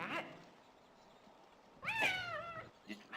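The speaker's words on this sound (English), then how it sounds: "Yeah, you stupid cat." A cat in the video game Phantasmagoria lets out a single drawn-out meow that rises and falls over a faint background hum, with a brief murmur of a voice just before.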